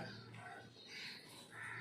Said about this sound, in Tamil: அப்பு குட்டி செல்ல குட்டி காக்காய்க்கு சாப்பாடு வச்சிங்களா?